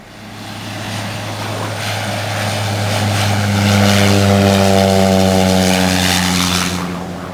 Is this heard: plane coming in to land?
yes